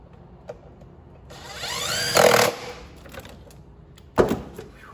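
A power tool whirs up to drive a bolt into a bracket on a Ford 3.5 Cyclone engine, its pitch rising as it spins for about two seconds before a sharp metallic clack, with light clinks before and after.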